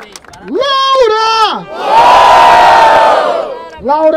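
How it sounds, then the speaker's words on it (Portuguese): A crowd at a Brazilian street rap battle, Batalha da Aldeia in Barueri, São Paulo, erupts in a loud roaring cheer, framed by a hosting voice shouting drawn-out calls to the audience before and after. "palmas e barulho pra Baueb"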